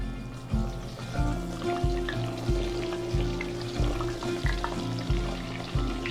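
Chicken patties fry in hot oil with a continuous bubbling sizzle, punctuated by regular low thumps, fairly quiet and without speech.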